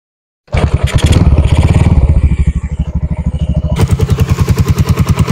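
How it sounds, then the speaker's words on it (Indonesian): A Yamaha Jupiter motorcycle fitted with a manual clutch block bursts into life and runs close by, a loud rapid pulsing single-cylinder beat that steadies into idle, then sharpens as the throttle is opened. "Untuk suara mesinnya kayak gini nih teman-teman."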